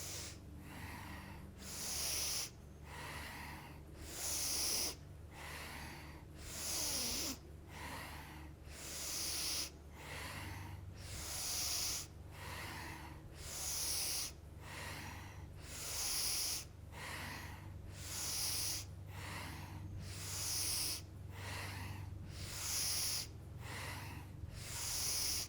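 Steady breathwork in a quiet room, slow deep inhales and exhales repeating in a regular rhythm about every second or two, close and fairly loud with a soft airy rush, no talking.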